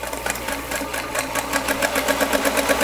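A sewing machine stitches quarter-inch seams on a Capital T quilt block, its rapid needle chatter running continuously and gaining speed, with a low motor hum beneath it.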